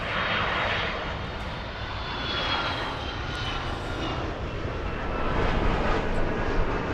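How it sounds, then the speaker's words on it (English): Delta Airlines airliner inbound from Boston on arrival at LAX, a steady broadband jet engine roar that holds loud and continuous for the whole stretch and swells slightly toward the end. "Delta 479 flying in from Boston, arriving 40 minutes late."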